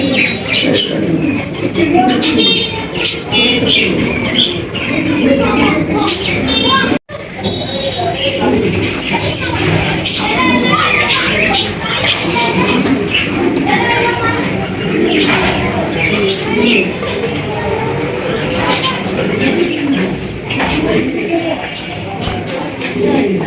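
Indian pigeons, a batch of ten pairs offered for sale, coo and squawk steadily in a loud, busy mix with voices talking around them throughout.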